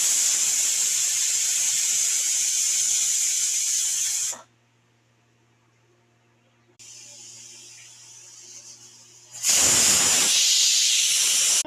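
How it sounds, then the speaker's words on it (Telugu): A pressure cooker on a stove cooking curry hisses loudly with a steady jet of steam, drops to near silence for a few seconds, then bursts into a second loud steam whistle; no one talks. "ప్రెషర్ కుక్కర్లో పెట్టి 2 విజిల్స్ వచ్చాక ఆపేస్తానండి"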